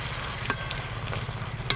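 Mustard paste stirred into a simmering Bengali curry of greens, the pot bubbling with a low steady sizzle while a utensil scrapes and taps the pan a few times, close by and with no talk.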